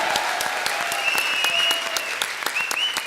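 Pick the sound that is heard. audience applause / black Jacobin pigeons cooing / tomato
audience applause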